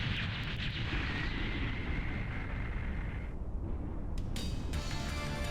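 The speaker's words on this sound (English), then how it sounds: "Watch that pretty explosion." A defeated boss blowing up in the video game Mega Man X4, a dense, sustained roaring blast that rumbles on for several seconds before fading into brief electronic sparkles.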